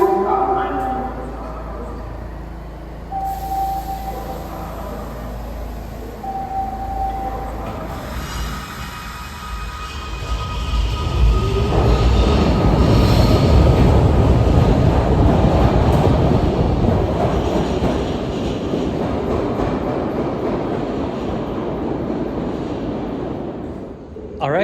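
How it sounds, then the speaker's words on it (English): Close tones sound before a Philadelphia subway train starts moving on the Broad-Ridge Spur, its rumble and wheel noise building and staying loud as it rolls away from the station. "then the train is ready to head back north to Olney Transportation Center."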